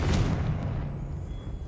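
A Confringo fire spell blast in the Hogwarts Legacy video game: a loud burst with a deep rumbling boom that slowly fades over under two seconds, with no talking.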